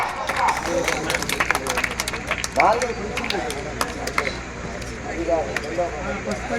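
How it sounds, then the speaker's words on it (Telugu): Audience claps at a prize-giving ceremony, a loose, moderately loud patter of hands running throughout beneath a busy hall murmur and a raised voice. "క్లాప్స్ కడాలి గట్టిగా"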